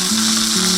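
Onion and coriander stems frying in a pan for green gram paniyaram, a brief steady sizzle with a low hum beneath, close and without voices.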